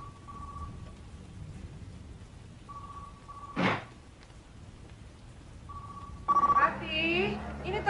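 A telephone bell rings in short repeated bursts at a moderate level, broken by a brief sharp noise, before a voice joins near the end.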